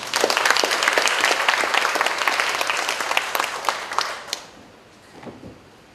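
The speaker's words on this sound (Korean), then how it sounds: "다시 한번 박수 부탁드립니다." Dense audience applause fills a hall at a university's welcome meeting for parents of incoming freshmen, loud and steady for about four seconds before tapering into a few scattered claps and quiet room tone.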